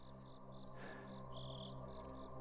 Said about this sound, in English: All Vince could hear were the crickets and his own breathing